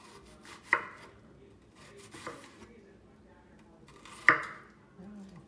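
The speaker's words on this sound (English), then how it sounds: "dice the onions really finely because he likes really small onions" A knife dices onions finely on a cutting board in a home kitchen, with a few distinct sharp knocks and softer taps scattered over several seconds, close and otherwise quiet.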